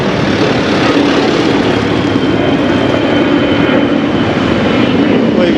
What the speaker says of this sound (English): Well, you can just see the plane.